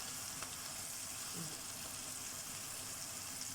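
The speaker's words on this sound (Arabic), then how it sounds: "ونقلب الكلام ده لغايه لما البصل يبقى احمر ويبقى لونه ذهبي ومقرمش وجميل جدا" Onions coated in flour fry in oil and are stirred for koshari, giving a steady, even sizzle throughout with a faint scrape of stirring partway through.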